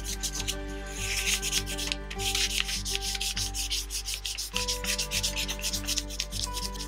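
A crayon rubs back and forth over a leaf laid under paper in a kids' art lesson, making a steady run of quick, close scratchy strokes over a constant low background hum.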